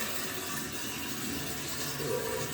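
Water rushing steadily into a toilet tank during refill after a cheap tank rebuild, a continuous broadband gush close by, with no speech.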